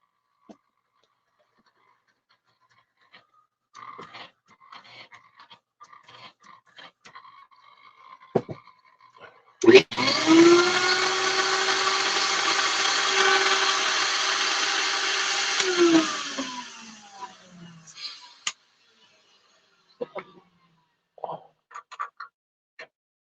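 A VPI record cleaning machine's vacuum runs on a new white vinyl album after a distilled-water rinse: a loud, steady motor whine and suction roar for about six seconds, then winding down, with scattered handling clicks before and after.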